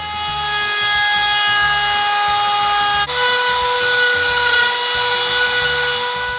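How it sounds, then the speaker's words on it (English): A Harbor Freight trim router cuts a wooden board with a loud, continuous high-pitched whine and a steady motor drone. The sound is close and runs without pause, with a slight shift in tone midway. "So let's go ahead and trim and router this board."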